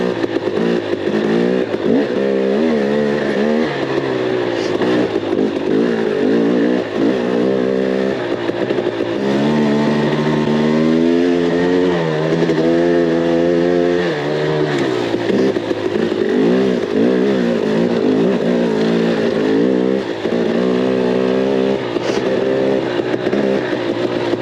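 A KTM 300 XC dirt bike rides a trail in extreme cold near Winchester, Tennessee, its engine droning steadily and close with repeated rises and falls in revs throughout, and no talk over it.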